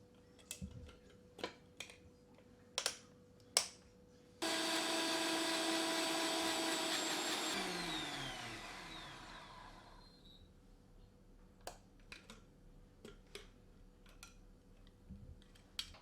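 Blender grinding onions and garlic with a little water for a mutton dish, a loud whirring burst of several seconds that winds down, set between scattered clicks and taps in a kitchen.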